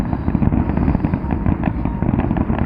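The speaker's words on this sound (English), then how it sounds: "They're pretty cool this time. Firework." Fireworks, including ground-level displays, explode in rapid, overlapping bursts, a loud, dense crackle and popping that continues without pause, with no voices.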